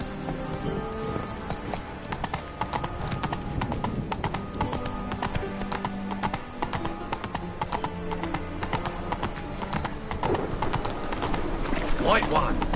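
Hooves of Geralt's horse Roach clip-clop steadily through The Witcher 3, with a brief whinny, under music and ambient game sound with talk throughout.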